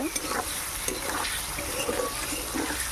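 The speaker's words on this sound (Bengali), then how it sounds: "এবার এই পনিরটা ভালো করে ভাজা করে নেব।" Paneer cubes fry with turmeric in hot oil, a steady, fairly quiet sizzle with faint crackles and stirring throughout, with no talking.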